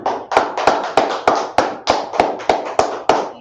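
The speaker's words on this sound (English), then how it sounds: "Clap it up." A congregation at a Sabbath service claps in a steady, even rhythm, about three claps per second, crisp and close with a faint hum beneath.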